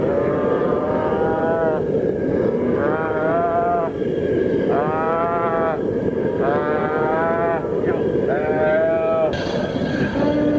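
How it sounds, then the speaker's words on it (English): A herd of cattle out on cowboy ranch work keeps mooing, with several long, drawn-out calls coming at irregular intervals over a steady rumbling background, close and loud. "Wait in there amongst that herd of cattle"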